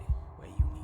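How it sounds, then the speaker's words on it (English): Beating heart of the princess in the video game Slay the Princess, a wooden and fleshy heart: two deep, soft thumps spaced about half a second apart over a low hum, close and muffled. "a wooden and fleshy heart beating with an unbroken rhythm"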